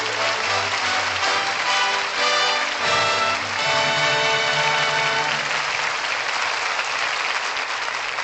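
Sustained studio audience applause for Ray Milland and Maureen O'Sullivan after a classic radio drama, a dense even wash of clapping with music faintly underneath.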